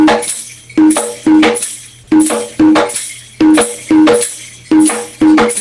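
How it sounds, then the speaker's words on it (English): A middle-pitched drum is hit in a steady, quick rhythm, about twice a second. Each note rings briefly, and a foot tap keeps time behind it. "Here's the middle drum."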